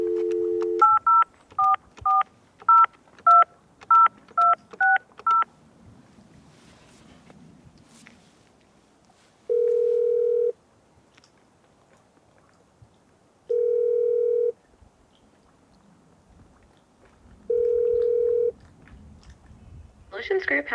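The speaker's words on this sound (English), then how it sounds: "So let's go ahead and place a test call and see how we're doing here. I'll put this on speaker." A telephone placing a test call on speakerphone in a mobile command center setup: a quick run of DTMF keypad tones, then three long, evenly spaced ringback tones with quiet gaps between them.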